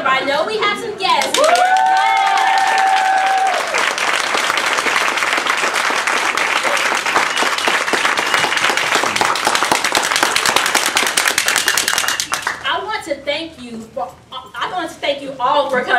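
A speech contest audience claps loudly for standing guests, a dense, sustained burst of applause lasting about eleven seconds and then fading into chatter, with voices heard talking before and after it.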